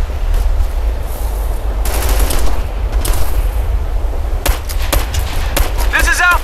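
Gunfire from the Operation Flashpoint: Red River video game rattles at the team in bursts of sharp shots and automatic fire, loud and close, with radio-style voices in between.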